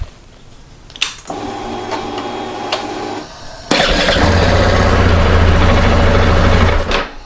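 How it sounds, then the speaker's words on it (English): A 2024 KTM 690 SMC R single-cylinder supermoto engine cranks on the starter for a couple of seconds, then catches and settles into a loud, steady close-up idle before cutting off. "now let's test it and see if the bike will start with the kickstand down"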